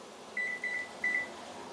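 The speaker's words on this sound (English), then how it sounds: "Then put a timer on for 2 minutes." A kitchen timer being set for frying fries gives three short electronic beeps in quick succession, clear against a quiet room.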